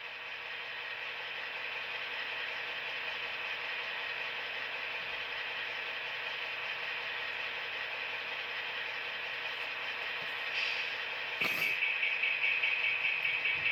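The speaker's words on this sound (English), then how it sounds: "once the lights are all on, the Hostler engine starts." On a Big Blow turbine locomotive model, the Hostler engine runs as a faint steady mechanical whine and hum. A brief click and a rattling pulse come near the end, with no talk.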